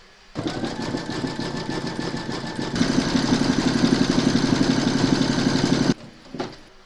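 An embroidery machine satin-stitches in gold thread, giving a steady close mechanical whir that grows louder and busier partway through, then stops abruptly near the end with a short final burst.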